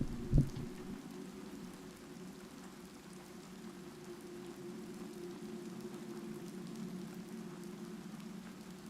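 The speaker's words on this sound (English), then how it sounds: "it's raining pretty good" Rain falls steadily outside a window, a soft even hiss with a faint low rumble, preceded by a single brief knock near the start.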